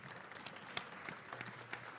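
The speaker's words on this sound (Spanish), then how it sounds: "Por favor, la recibimos con un aplauso." Audience applause at a magazine presentation event: a quiet, steady patter of many hands clapping, with scattered sharper claps standing out over a couple of seconds.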